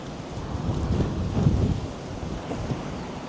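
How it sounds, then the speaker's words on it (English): Gusty wind buffets the microphone on a fishing pier on Saint Simons Island, Georgia, a rumbling, surging roar that swells and eases without any voices. "Windy conditions"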